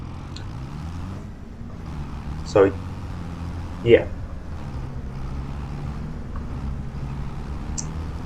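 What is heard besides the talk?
tractor engine hauling heavy lime load, from video game Farming Simulator 25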